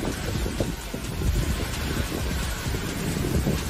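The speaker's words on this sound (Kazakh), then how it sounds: "Сұрапыл жел Сауд Арабиясының батысында болып жатыр." Strong storm wind in western Saudi Arabia around Mecca roars continuously, buffeting the microphone with low rumbling gusts that rise and fall over a few seconds.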